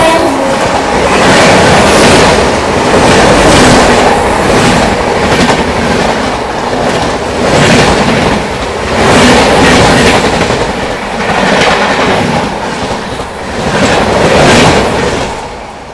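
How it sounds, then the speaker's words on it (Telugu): A Visakhapatnam–Mumbai LTT express train passes alongside to overtake, a loud, close, continuous roar of wheels and carriages with rhythmic clickety-clack pulses swelling and fading throughout. "విశాఖపట్నం ముంబై LTT వచ్చేసింది ఓవర్టేక్ చేయడానికి గోల్కొండని."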